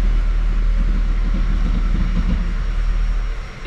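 A Honda Civic makes a continuous low mechanical hum and grinding rumble while its handbrake is engaged, steady and close, fading slightly at the end with no talk.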